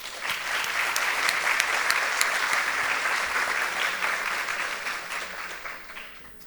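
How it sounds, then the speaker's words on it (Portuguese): An audience at an ocean science talk applauds a guest speaker with sustained, lively clapping, loud and even at first, then slowly thinning and fading toward the end. "Vamos recebê-lo com uma salva de palmas."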